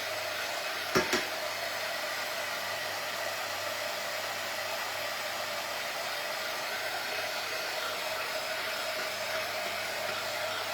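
Hair dryer blowing continuously to dry decoupage on a silver tray, a steady close whooshing hum with a brief click near the start.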